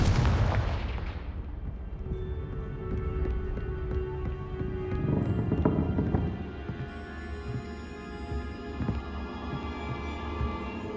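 A Confringo fire-blast spell from Hogwarts Legacy erupts with a loud boom that fades into a rumbling, layered game soundscape of scattered impacts and resonant tones.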